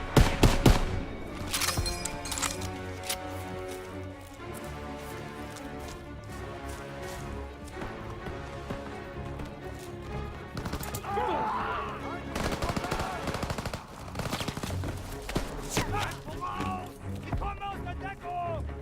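Call of Duty WWII battle gunfire rattles throughout in rapid machine-gun bursts and single rifle shots, loud and close, mixed with shouted voices amid a chaotic skirmish.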